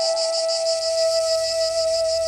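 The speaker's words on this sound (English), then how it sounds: "Piercing the stone walls, the cicadas cry." Cicadas buzz in a continuous, shrill pulsing drone with a steady high tone underneath, fairly close and unbroken throughout, at a mountain temple with stone walls in Yamadera, Japan.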